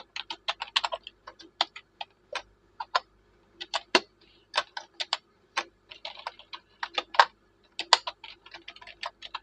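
C++ code being typed on a computer keyboard: close, crisp keystroke clicks in irregular quick bursts with short pauses between, in an otherwise quiet room without speech.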